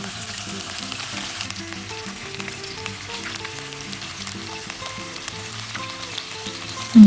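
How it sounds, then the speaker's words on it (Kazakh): Breaded chicken legs fry in hot oil, a low, even crackling sizzle that persists for several seconds beneath a steady musical accompaniment, ending with a brief louder knock. "қызып тұрған майға осылай қуырып алуымыз қажет"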